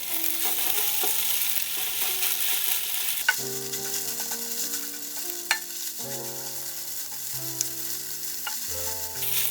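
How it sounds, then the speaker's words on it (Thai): Rice stir-fries in oil in a hot pan for kimchi fried rice, a continuous loud sizzle with steady tossing and scraping of a spatula and a few sharp knocks on the pan. "ผัดให้ข้าวร่วงคลุกน้ำมันทั่วให้ร้อนกระทะเป็นร้อนได้ครับ"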